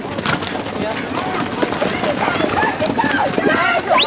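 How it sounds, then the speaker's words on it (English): Horse hooves clip-clop on the ground at an unhurried walk at a pacing horse show at Heritage Hall, mixed with outdoor bustle and voices talking in the background. "Ride your horses at a walk"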